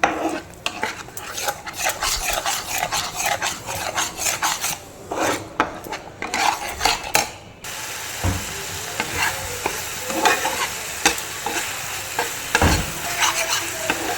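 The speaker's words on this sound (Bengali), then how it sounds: "এর মধ্যে আছে চার মগজ পোস্ত আর টক দই দিয়েও ভালো করে আমি কষিয়ে নেবো" Pomfret curry paste with char magaj, poppy seeds and sour yogurt being sautéed in a pan, loud close sizzling with continuous rasping stirring and scraping of a spatula, no talking.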